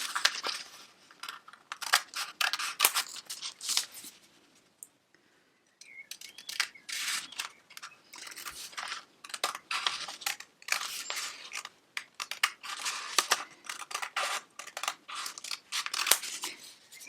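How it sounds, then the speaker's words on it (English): Scissors snip through fabric to cut out a 19 by 13 centimetre rectangle for a face mask pattern, with steady close crunching cuts in bursts separated by short pauses. "cut out our new rectangle side, which is 19 centimetres by"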